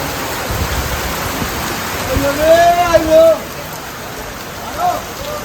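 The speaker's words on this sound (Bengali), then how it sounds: "যে বৃষ্টি আইলো," Steady rain pours down in a Bangladeshi village, a broad even hiss running throughout, with a voice speaking briefly in the middle.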